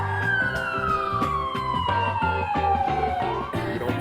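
An ambulance siren wails close by, its tone sliding steadily downward as it passes over a rhythmic, pulsing backdrop, with no voices heard.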